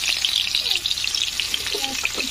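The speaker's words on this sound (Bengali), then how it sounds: "তেলে কাঁচা লঙ্কা দিয়েছে" Green chilies frying in hot oil for samosa preparation crackle and spit in a bright, close sizzle that holds steady throughout, with faint voices in the background.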